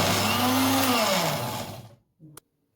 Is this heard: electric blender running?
yes